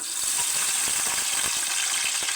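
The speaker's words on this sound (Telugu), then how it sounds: "ఆయిల్ హీట్ అయ్యాక దాల్చిన చెక్క, లవంగా వేసేద్దామండి" Cinnamon and cloves frying in hot oil give off a steady, bright hiss and crackle, close and fairly loud, with no voices.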